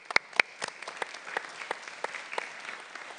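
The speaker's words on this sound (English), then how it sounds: "So, round of applause for them." Scattered, fairly faint applause from a small audience at a film festival panel discussion, with individual claps distinct and thinning out.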